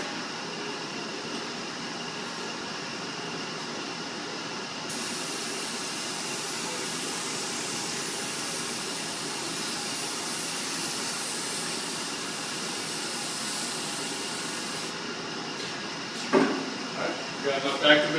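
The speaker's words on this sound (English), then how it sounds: "I'm going to apply the activator." Hydrographic film activator sprays onto carbon-pattern water-transfer film in a steady hiss that runs for about ten seconds before stopping, followed by a few light handling knocks.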